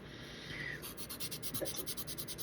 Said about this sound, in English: This was just a dowel, and I glued the sandpaper onto it